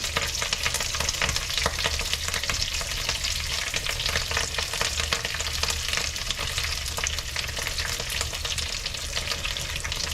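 Greens cooking down in olive oil in a pot: a dense, even crackling sizzle with constant fine popping that keeps going throughout, close and moderately loud, with no speech.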